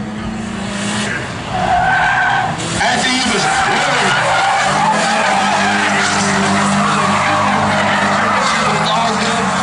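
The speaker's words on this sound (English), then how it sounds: "Both cars with a nice drift" Two cars, a white 1989 240SX and a silver 1991, drifting side by side on a race track, tires squealing loudly with engines roaring, under a commentator's voice.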